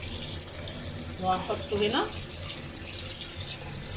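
Food is rinsed in a kitchen sink under a running tap, a steady stream of water splashing throughout with a brief stronger burst in the middle, while someone talks briefly over it.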